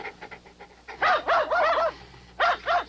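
A dog pants rapidly in short breaths, then gives several loud, close yips and barks in quick bursts, with a pause before two more barks near the end.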